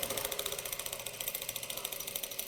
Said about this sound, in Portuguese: vou passar uma costura fora só para prender esse tecido e ele não sair.